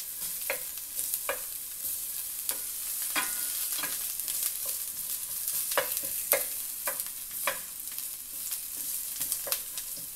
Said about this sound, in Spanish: voy a empezar a acitronar la cebolla